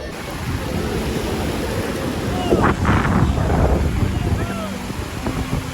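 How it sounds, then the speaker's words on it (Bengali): Sea waves roll onto Bakkhali beach under heavy wind buffeting the microphone, with a swell of surf rising and then easing midway. "আমরা সমুদ্রের দিকে অগ্রসর হচ্ছি, সুন্দরভাবে স্রোত আসছে।"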